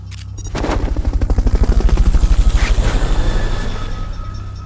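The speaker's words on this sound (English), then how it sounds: "Fulton recovery helicopter is complete." Helicopter in the Metal Gear Peace Walker video game, a loud rapid rhythmic rotor chop that swells in after a brief quiet start and holds steady, with a sustained engine whine beneath it.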